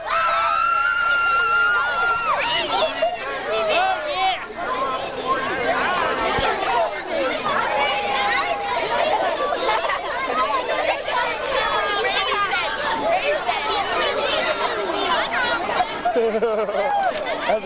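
A large school rally crowd supporting London City Schools roars with continuous cheering, screams and excited chatter, loud and dense throughout, with individual voices shouting over the babble.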